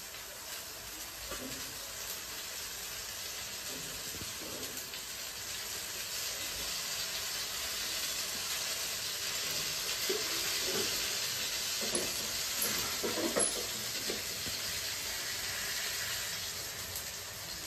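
Oil sizzles steadily in a hot pan as chapati dough cooks in it, a soft continuous hiss with a few faint stirring or shifting sounds near the middle, no talking.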